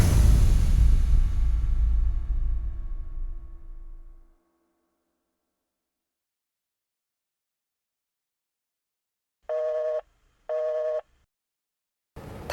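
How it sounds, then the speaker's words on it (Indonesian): A telephone busy tone sounds as two clear, even beeps separated by a short gap, following a fading rumble and a long silence. "Telepon Rangga kok dari tadi nadanya sibuk terus ya?"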